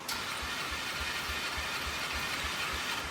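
An old four-wheeler ATV engine left parked for twelve years runs after being choked, a steady low idle with evenly spaced thumping pulses under a constant hiss, close and unchanging for several seconds.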